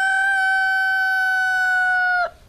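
A Barred Rock rooster crows one long, loud, sustained call close by, ending with an abrupt drop-off.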